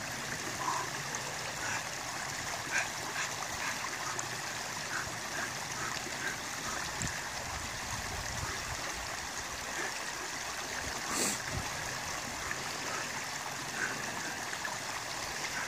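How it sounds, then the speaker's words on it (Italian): A mountain stream flows steadily, a soft continuous rush and gurgle of water heard at moderate distance, faint and unbroken, with an occasional small knock. "Mentre il ruscello fa da sottofondo ai nostri allenamenti con questo suono"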